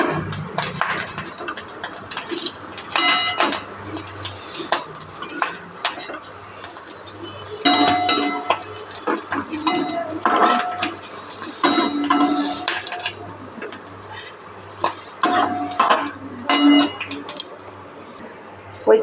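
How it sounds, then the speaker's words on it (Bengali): Fried freshwater snails lifted out of a pan with a metal utensil, sharp scraping clinks and clatters in repeated bursts close by, with quieter stretches in between. "দেখছি ভাজা আমার হয়ে গেছে গুগলিটা। এটা আমি এবারে তুলে নেব।"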